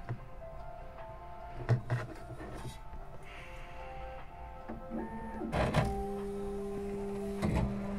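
Bambu P1S 3D printer homing: quiet, steady motor whirring with rising and shifting tones, small clicks and a few louder knocks as the print head moves, heard up close with no talking.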